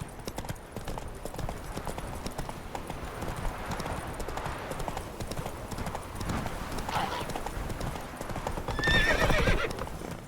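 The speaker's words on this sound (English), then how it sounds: "Whoa there, Roach." Horse in The Witcher 3 video game, heard as a steady run of hoof clip-clops with a whinny near the end, set against background game ambience.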